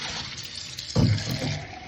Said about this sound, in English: gonna faucet in cold position, all the way down.